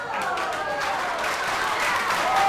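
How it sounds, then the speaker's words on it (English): Audience applause and cheering follow a card magic trick, a dense, steady wash of clapping from a crowd that swells slightly toward the end, with voices mixed into the noise. "Give him a big round of applause."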